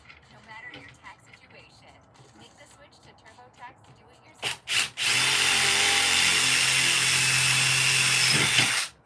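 A power drill starts with a couple of short bursts, then whines steadily and loudly drilling a hole into a table, close by, after some quiet handling noises.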